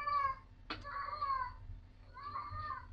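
A male cat in heat meows several times, drawn-out and moderately close, over a low background hum, with a brief click between the calls.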